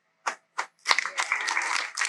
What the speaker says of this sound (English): come on, big round of applause for them